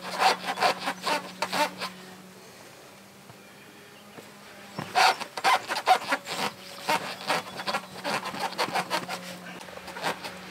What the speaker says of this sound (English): remove the excess with my dirty rag, and I use my clean one and buff off the rest